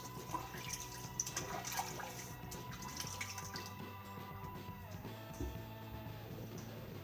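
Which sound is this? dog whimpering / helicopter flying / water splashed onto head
water splashed onto head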